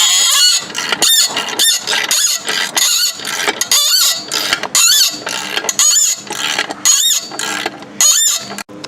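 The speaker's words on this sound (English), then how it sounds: "that one made it all the way off after squealing" Loud, high-pitched metallic squealing in repeated bursts, a rusted exhaust bolt on an AMC car shrieking as it is unscrewed, with brief pauses between squeals.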